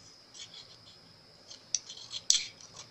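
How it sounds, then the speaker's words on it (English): A pair of scissors cuts during resin soap-dish crafting, giving soft snips that build into sharper, louder crisp snaps near the end over a quiet background. "I don't know if these scissors are sharp enough."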